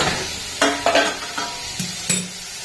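Poppy seed water goes into a hot frying pan, producing several short bursts of sizzling and utensil clatter, each flaring up and quickly dying down, fairly close and loud.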